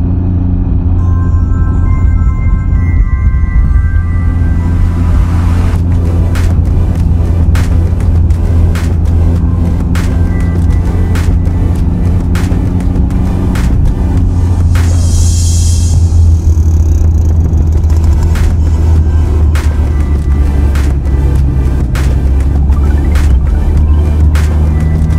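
A Can-Am Ryker three-wheel motorcycle rumbles along on the road, a loud steady engine drone with wind buffeting close to the rider and no talk.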